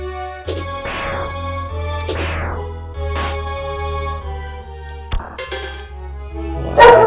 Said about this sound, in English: so the dog probably going to bark